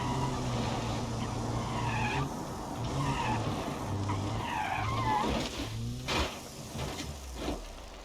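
A car skids and squeals its tires while driven recklessly in the BeamNG driving game, a Corolla AE92 mod, with engine drone under repeated screeching slides and a few sharp knocks near the end.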